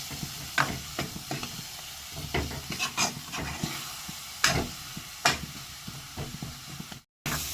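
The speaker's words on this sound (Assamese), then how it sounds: "এনেকৈ অলপ ভাজি থাকিব লাগে আলুটো" Potato pieces frying in an oil-filled pan on a home stove, with a steady sizzle broken by repeated scraping stirs of a spatula against the pan, close and fairly loud.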